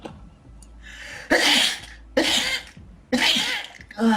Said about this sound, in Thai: เป็นผมจามผมต้องจามทีละสามนะครับ